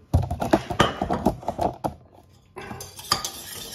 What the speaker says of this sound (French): Continuez à fouetter.